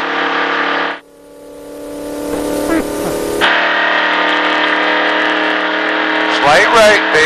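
A NASCAR stock car engine on a race track roars loudly and steadily under acceleration, its droning revs sustained throughout, with a voice talking over it.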